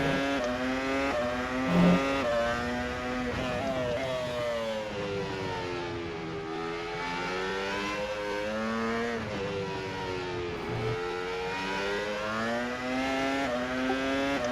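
A race car engine in the rFactor 2 racing sim howls steadily through a lap, its pitch sweeping up under acceleration and dipping on lift-offs, with no talk over the sound.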